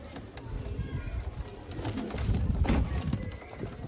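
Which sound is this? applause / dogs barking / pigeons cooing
pigeons cooing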